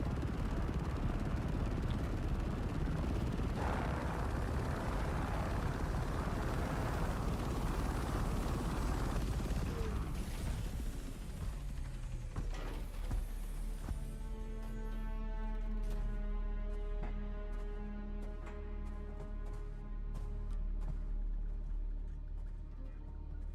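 Ornithopters flying in the video game Dune Awakening give a loud, low rumbling drone that shifts into a pulsing, tonal engine whine with rapid flapping beats in the later part.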